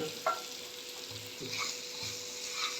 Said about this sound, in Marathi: फोडणीमध्ये मी कैरीच्या फोडी घालून घेते आहे।